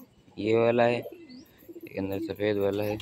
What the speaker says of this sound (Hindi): अब ये जो कबूतर बोल रहा है ये